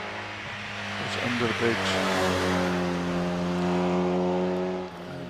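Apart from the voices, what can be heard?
MGB sports car with B-series engine racing up hill climb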